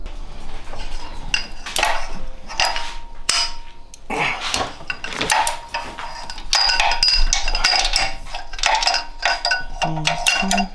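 Hand tools clink and clank against metal while a small bolt is undone during a header and exhaust install on a Mazda Miata, giving irregular, close metallic taps and scrapes in quick bursts.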